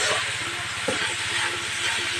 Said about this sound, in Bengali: আর এবার এটাই তেলের ভিতরে দিয়ে দেব, দিয়ে নাড়তে থাকবো। এবার কিছুক্ষণ ভেজে নেব এইভাবে।